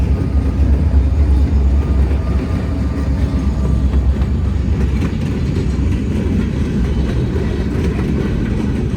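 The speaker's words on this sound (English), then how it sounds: "The train I came to see is the Hornbrook turn, which will tackle the steepest mainline grades in the state of Oregon." Hornbrook turn freight train working the steep Siskiyou mainline grade in Oregon, a loud, steady rumbling roar of rolling rail cars that holds evenly throughout, with no voices.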